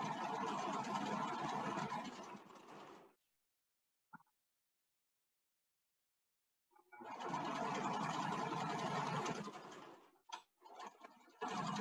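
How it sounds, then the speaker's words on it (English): A sewing machine stitches fabric in two fast, buzzing runs a few seconds apart. Between them comes a stretch of near silence broken by a single faint click, and a few short stutters follow the second run. "I'm gonna go ahead and pull this off and take it to the sewing machine."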